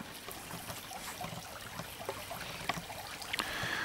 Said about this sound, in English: it's just a lovely sound of the little brook running past.